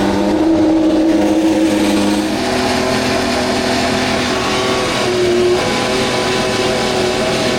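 Formula 1 race car engine at a track, a loud, dense, high-pitched whine that holds steady and rises in places, filling the whole stretch with no talking.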